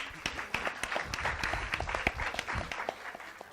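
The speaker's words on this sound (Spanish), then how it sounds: "Digan, un aplauso," Audience at a world congress on violence toward children breaks into applause, sharp individual claps loud and close against a busy wash of clapping, tapering off after about three seconds.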